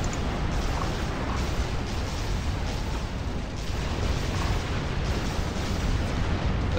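Tier 3 artillery and siege tanks in a Forged Alliance battle fire a steady, dense barrage of overlapping booms and blasts, with no pause throughout.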